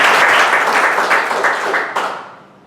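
Audience applause for a speaker at a speech meeting, a dense burst of clapping that holds steady and then thins and fades toward the end.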